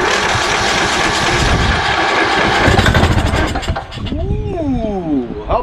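A Craftsman 20HP DLS3500 lawn tractor engine, primed with starting fluid and choked, runs loud and rough up close, then sputters and fades as someone talks over it.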